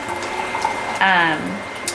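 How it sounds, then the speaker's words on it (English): Coffee poured into a cup indoors, a short liquid stream rising in pitch as it fills for about a third of a second, heard close over a quiet room with faint background noise. "I'm pouring more coffee"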